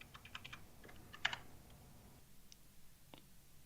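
Quick bursts of typing on a computer keyboard, light clicky keystrokes in short runs with a few isolated taps, faint and close, with no voices.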